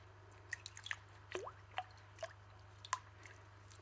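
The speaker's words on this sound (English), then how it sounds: "squeeze, and see how dirty that is getting already" A dirty aquarium pre-filter sponge is squeezed in aquarium water, giving scattered wet squishes and drips, close and quiet, with a low steady hum underneath.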